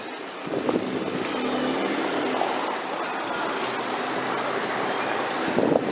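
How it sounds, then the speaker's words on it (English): Cars and mopeds crowding a busy, congested street in Naples' old town, a steady wash of engine and traffic noise with passing vehicles, moderately near and continuous. "lots of cars and moped"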